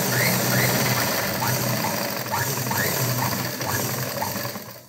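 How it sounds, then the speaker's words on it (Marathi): A sewing machine runs a straight seam in one steady, close mechanical whir for the whole stretch, with a faint rhythmic ticking and no voices. "सरळ शिलाई दिलेली आहे इथपर्यंत"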